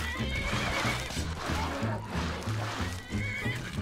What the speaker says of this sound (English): There's a horse there.